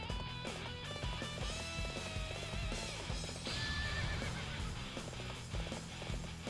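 Horses in a video game battle whinny and neigh over steady clip-clopping hooves, with several animals heard together at moderate, even loudness and no talking.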